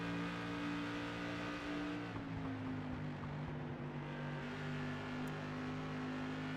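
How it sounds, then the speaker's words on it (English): An SK Modified race car's engine holds a steady throttle drone on a short track, with strong harmonic tones that shift in pitch partway through as the car accelerates past. "Here the throttle response is there from the 11 Illinois Brian Hacker."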